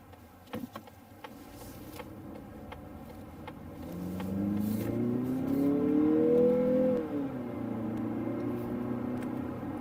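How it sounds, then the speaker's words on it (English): A turbocharged Mazda CX-50 engine hums low inside the cabin, then revs up into a throaty rising drone and settles back to a steady idle-like rumble. "Throaty sound, the turbo."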